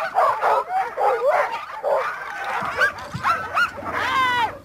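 Sled dogs kept for racing bark and yip in a busy, overlapping chorus, close and loud, with higher whimpering calls toward the end.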